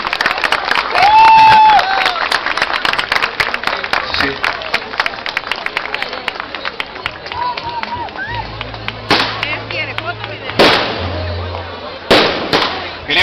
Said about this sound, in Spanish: Fuertes palmas para nuestro santo patrono del Callao, el Señor del Mar.